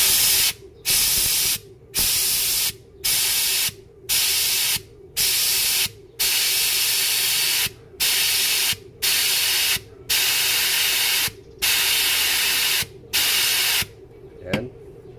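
Loud bursts of compressed air blast through a car air filter in repeated, evenly spaced hisses with short gaps between them, close and harsh, a low hum running underneath.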